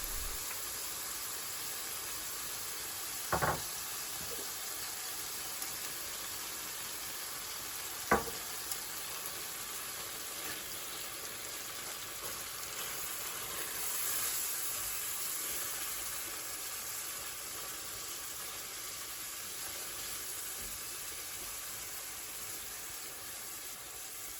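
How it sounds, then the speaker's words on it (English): Masala paste and sugar sizzle steadily in a pan while being stirred, a soft, even frying hiss that runs throughout, broken twice by brief clinks of a utensil against the pan. "Add the masala paste you have just made and the sugar and stir well."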